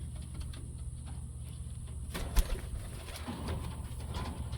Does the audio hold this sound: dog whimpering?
no